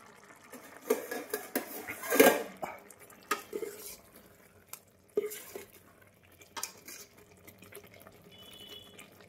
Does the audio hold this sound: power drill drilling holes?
no